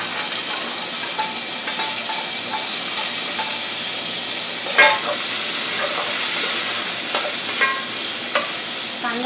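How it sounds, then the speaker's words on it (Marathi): Chopped onion frying in oil in a pan while masala rice is cooked, a steady close sizzle and hiss with scattered scraping clicks of a spoon stirring, continuous for the whole stretch with no talk. "कांदा चांगला गुलाबी होईपर्यंत आपल्याला परतायचे आहे"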